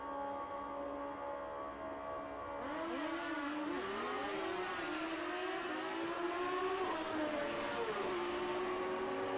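A Street ET drag racing machine launches down the strip at a racing event, its engine howling as it climbs sharply through gears, the high-pitched roar rising and falling at a distance under a constant crowd-and-track background.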